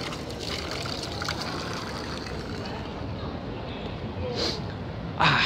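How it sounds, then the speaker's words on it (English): A public drinking water fountain on a street in Turin, Italy runs steadily, a continuous trickling splash close by with faint street babble behind it. "this is drinkable water, so you can drink it from here everywhere in the city if you're thirsty"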